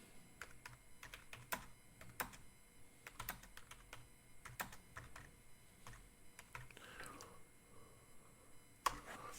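Fingers typing a prompt on a computer keyboard, with quiet, irregular key clicks and a few sharper taps, heard close and alone.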